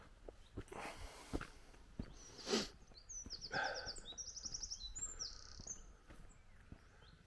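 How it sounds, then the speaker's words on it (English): Birds tweeting in trees outdoors, trilling and chirping faintly at a distance, mixed with footsteps and rustling nearby. "Nice to hear the birds tweeting away in the trees."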